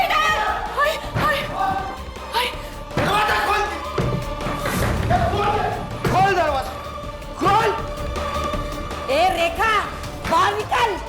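Heavy thuds and bangs hit a door in a house as someone tries to break it down. The blows come at irregular times under loud, excited shouting from several voices.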